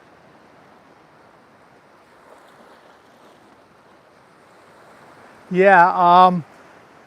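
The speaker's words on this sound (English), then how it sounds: "we're on the beach, just different beach today" Waves wash steadily onto a beach in Thailand, a low continuous surf rumble mixed with wind noise, and a voice speaks briefly near the end.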